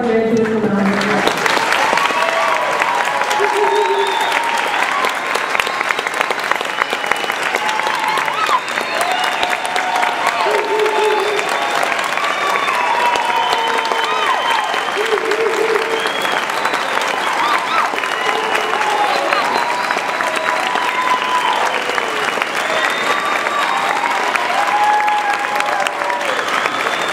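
Sustained audience applause for graduates at a nursing pinning ceremony, steady dense clapping that carries on for nearly half a minute, with a few voices faintly underneath.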